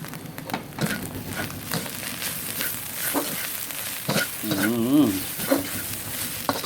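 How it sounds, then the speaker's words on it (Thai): Quail stir-fried in a pan with fingerroot, chili and shredded kaffir lime leaves, steady close sizzling with scraping stirs and a brief clatter midway, no talk. "ผัดต่อเลยครับผัดแป๊บนึง"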